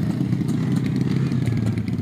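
A 4-stroke motocross motorcycle engine runs close by with a loud, rough, throbbing drone and rattly clatter, holding steady and unbroken throughout.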